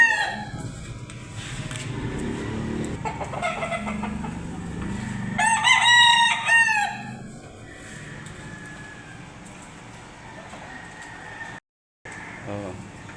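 A fighting cock crows loudly and clearly with a long harmonic call, with clucking fowl around it and people chatting faintly in the background.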